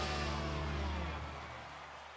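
A 1972 MGB GT, a classic British sports car, revs its engine close by, a steady low rumble that eases off slightly toward the end.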